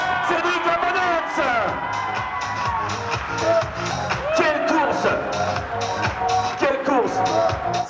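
A crowd at the Altriman 2022 triathlon cheers and whoops loudly for a finishing athlete, with shouting voices and some clapping over a constant roar of many people.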